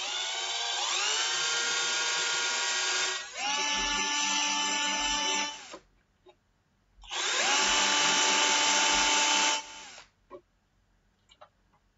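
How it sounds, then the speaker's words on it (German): A power drill bores a hole into the plastic axle of a toy MAN TGS truck, two sustained high-pitched whirring runs with a pitch that sweeps up at startup, separated by a pause with faint clicks. "Genau in die Mitte bohren wir ein Loch."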